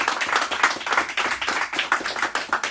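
An audience at a book presentation claps after a reading, a quick, rhythmic burst of close hand claps from a small group, fairly even and unaccompanied by voices.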